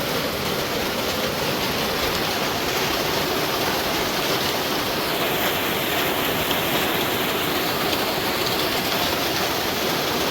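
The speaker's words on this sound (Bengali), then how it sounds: "বাগানে বৃষ্টি পড়তেছে" Heavy rain pours steadily onto a ginger farm garden, a dense, loud, unbroken hiss that holds evenly for the whole stretch with no voices.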